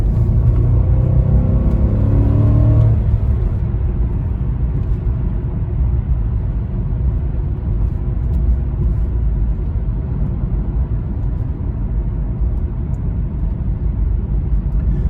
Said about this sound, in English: So let me floor it right now. I'm flooring it.